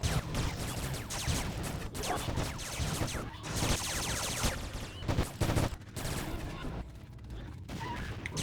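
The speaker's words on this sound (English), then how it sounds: "Sky cannon, pew pew" Sky cannon firing in Anarchy Online, a dense run of loud booming bursts and rapid gunfire-like blasts with brief gaps between volleys.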